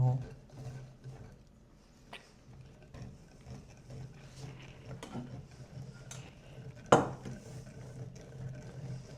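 Cake batter is stirred in a bowl in a home kitchen, with soft scraping and clinking of utensil against the bowl in an irregular rhythm. One sharp knock stands out, and people talk throughout.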